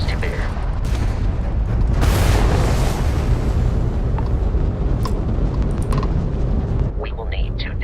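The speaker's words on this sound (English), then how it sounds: "that's a Crimson Fleet ship bringing its weapons to bear." Crimson Fleet ship weapons fire during Starfield space combat as a dense, continuous rumble of booms and bursts, with a swell of blasts early and sharper pops later, all under a talking voice.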